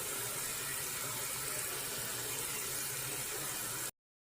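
Tap water runs in a steady, even hiss as thin egg noodles are rinsed in a sink, close and continuous before stopping abruptly.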